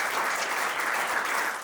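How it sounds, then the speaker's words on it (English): Applause from a business seminar audience, a steady dense wash of clapping filling the room, fairly near and even, tapering slightly at the end with no voices over it. "give a huge round of applause"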